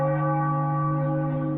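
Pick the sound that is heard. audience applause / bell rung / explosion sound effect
bell rung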